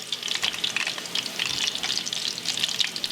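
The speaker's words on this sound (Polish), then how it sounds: "będziemy przewracać, żeby ładnie się smażyły liczne klopsiki" IKEA-style meatballs fry in a pan with a steady, busy crackle and sizzle that holds close and even the whole time, and no voices come through.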